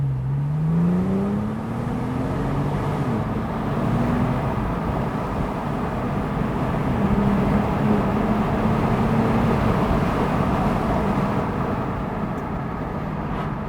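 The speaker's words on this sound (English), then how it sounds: "if the exhaust is not grunty, angry, and you know, exotic enough for you" Porsche 911 Turbo of the 997.2 generation driving, its engine and exhaust a loud, continuous low drone with rising and shifting tones as revs change, steady and close throughout.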